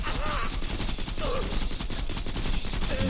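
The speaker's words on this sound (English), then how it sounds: "I think we can swap over to the Lady Fist now." Rapid shots from the Lady Fist pistol in Borderlands form a dense, continuous clatter of gunfire, loud and close, with faint game voices in the background.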